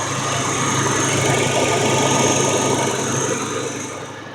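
A 1989 Ranger GT's 2.9 liter fuel-injected V6 idles steadily after a tune-up, with a low rumble and light mechanical rattle, close by, fading slightly toward the end.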